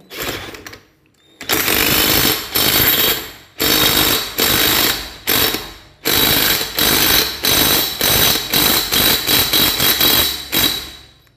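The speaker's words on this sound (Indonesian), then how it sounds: "Nah, kita gunakan impact" An impact wrench tightening bolts on the clutch housing of a car during clutch installation, firing in loud repeated rattling bursts separated by short pauses.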